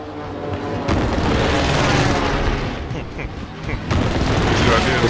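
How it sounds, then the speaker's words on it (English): A video-game airstrike lands as a string of heavy booming explosions, thick and rumbling, with a short lull in the middle before more blasts roll in. "Allied precision airstrike incoming."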